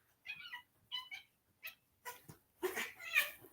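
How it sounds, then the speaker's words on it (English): A cat meows several times in a row, with short close cries that grow into louder, drawn-out caterwauling yowls toward the end, heard alone without talking. "Yeah, I'm fighting my cat."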